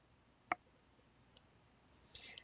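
A single crisp computer mouse click sounds once, sharp and short against a quiet, near-silent background, followed by a couple of faint, soft ticks.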